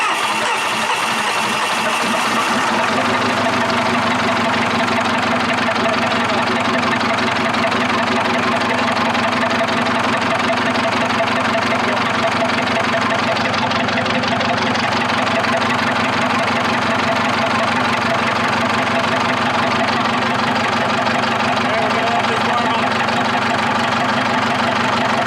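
Diesel engine of a TD8E bulldozer running steadily at close range, a continuous low, rumbling drone that starts up in the first few seconds and holds on without pause, with no talking over it.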